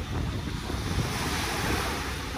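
Waves wash onto the beach at Dolomite Beach on Manila Bay in a steady broadband rush, with heavy wind buffeting the microphone throughout and no voices.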